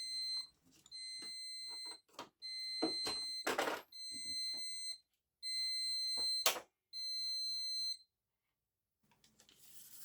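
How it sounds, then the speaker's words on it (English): A Silhouette Cloché heat press signals the end of a pressing cycle with repeated electronic alarm beeps in short bursts, close and clear, broken by brief clicks and handling knocks before it stops. "We'll hear the automatic alarm when it's done."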